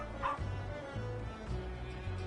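A dog pup in the Final Fantasy XIV video game gives a short high yip, with a few softer whimpering barks over steady game background music.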